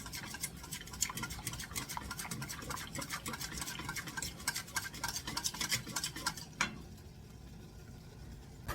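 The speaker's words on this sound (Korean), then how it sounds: "밀가루가 덩어리가 안 지게 골고루 풀어줍니다." A spoon stirs flour into about 200 ml of water to break up lumps, giving a steady stream of soft, close scraping and clicking strokes with no voices, ending in a brief quieter pause and one last clack.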